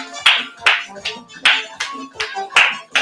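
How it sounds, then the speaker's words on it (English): Rhythmic hand clapping during a dance lesson, sharp claps repeating roughly every half second at a steady, even pulse, close and fairly loud, with faint background voice traces. "you can start doing with the clapping"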